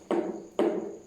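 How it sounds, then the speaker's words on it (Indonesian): A marker pen striking a trash bin twice in quick succession, two hollow, fairly quiet knocks roughly half a second apart, each with a brief ringing tail. "Spidol dengan tong sampah."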